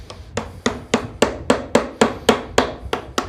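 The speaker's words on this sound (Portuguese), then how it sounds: "Agora eu vou remover essa daqui com o formão, é mais fácil, e vou remover essa com o formão" Hammer tapping a wood chisel to clear out waste for a simple woodworking joint, about a dozen sharp, evenly spaced knocks, close and loud, with no talking.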